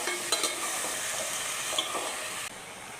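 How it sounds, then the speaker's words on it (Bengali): Eggplant pieces sautéing in a hot pan, a steady broadband sizzle with a few scraping stirs of the spatula near the start, the frying continuing close and fairly loud throughout. "ভালো করে কষিয়ে তারপর জল দেব।"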